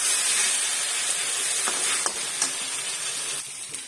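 Chicken pieces frying in a pan for curry, a continuous hiss of oil and steam with a few sharp stirring clicks, close and steady without talk.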